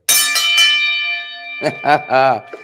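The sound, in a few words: ring bell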